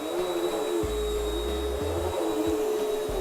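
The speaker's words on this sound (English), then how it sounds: "Canister vacuum, turn it on and vacuum just a little bit." A canister vacuum cleaner runs with a steady high-pitched whine and a broad rushing drone, its pitch dipping briefly several times as the nozzle moves over the floor.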